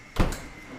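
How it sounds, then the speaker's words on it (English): A freezer door swings shut with a single muffled thud and short rattle, close and fairly soft, followed by quiet room hum. "Let's close the door."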